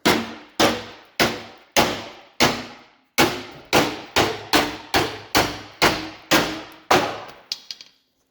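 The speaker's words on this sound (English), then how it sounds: "Just from me hammering on this a little bit." A hammer pounds on the salt- and clay-crusted metal of a truck, about fifteen loud ringing blows in a steady rhythm with a brief pause partway through, ending in a few quicker taps.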